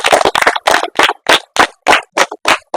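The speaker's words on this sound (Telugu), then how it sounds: "ఇంకోసారి క్లాప్స్ కొట్టాలి అందరూ" A crowd at a football tournament in Kalwakurthy claps in unison, about ten sharp, evenly spaced group claps in a brisk steady rhythm, close and loud, with no talking.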